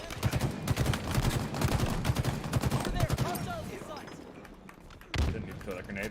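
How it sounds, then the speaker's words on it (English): Halo Infinite combat: a dense, continuous clatter of rapid gunfire with a heavier blast-like surge near the end, loud and busy, with someone talking over the action. "Didn't need to throw that grenade, but I'll take it."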